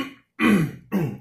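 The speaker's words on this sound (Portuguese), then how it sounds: "É o pigarro." A person clears their throat twice in quick succession, close and fairly loud, with a short silence before the first.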